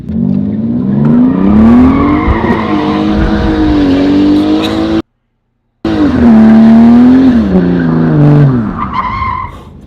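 A small four-door car is driven hard, its tires squealing loudly in long, wavering screeches that rise and fall with the turns, broken once by a brief silence before another sustained skid fades out.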